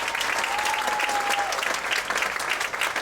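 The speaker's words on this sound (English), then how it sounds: "Come on stage, please give it applause." Audience applause at a Pecha Kucha evening in Ubud, Bali, a dense, steady patter of many hands filling the room throughout, with a brief faint tone drifting underneath.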